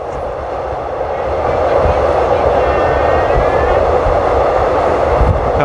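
Train running along an elevated track in Bangkok, a steady loud broadband rumble and rush that holds evenly from start to finish, close and continuous, with no talking over it.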